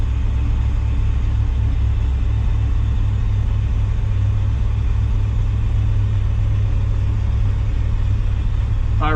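Chevrolet El Camino with a fuel leak, engine running in low gear while backing up, a loud, steady mid-range rumble throughout with no talking.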